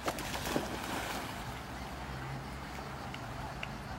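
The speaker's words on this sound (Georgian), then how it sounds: "ნავი მოდის გოგო, ნავი." A boat approaching across open water gives a faint, low, steady rumble with soft wash and wind noise, distant and quiet throughout.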